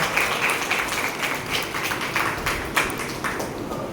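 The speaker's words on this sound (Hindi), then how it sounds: "आप सभी तो तालियों से स्वागत करिए कोमल का।" An audience applauds to welcome a young woman onto the stage at a school induction ceremony, a steady wash of many hands clapping at moderate loudness with a few sharper claps standing out.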